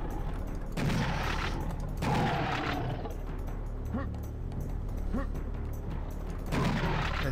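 Enemy gunfire in Serious Sam Classic: The First Encounter, a few bursts of shots spaced across several seconds over a steady game background, moderately loud, with no talk.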